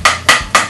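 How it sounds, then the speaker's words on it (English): Three sharp, evenly spaced knocks of an egg being tapped against the edge of a pan while cooking pad see ew, close and crisp, without talk. "And you just crack the egg in."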